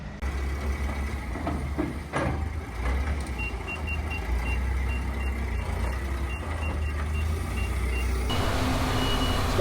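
A truck with a trailer reversing slowly past parked cars, its engine rumbling steadily while a faint, regular reversing beep repeats in the background for most of the time.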